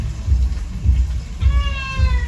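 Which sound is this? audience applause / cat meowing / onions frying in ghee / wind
cat meowing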